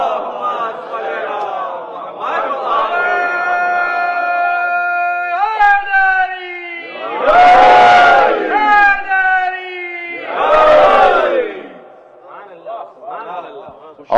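A Shia majlis congregation loudly recites salawat in unison, with several sustained chanted surges of many voices rising and falling, separated by short pauses.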